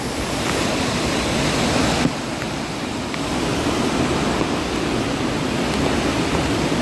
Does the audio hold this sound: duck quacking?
no